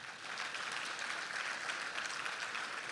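Audience at a luncheon applauding, a dense, even wash of many hands clapping together for the full three seconds, moderately distant, no voices.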